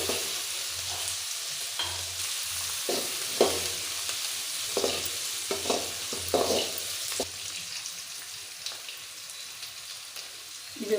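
Vadagam frying in hot oil for a South Indian fish curry, a soft steady sizzle with intermittent stirring scrapes and clinks, quiet and close with no talk.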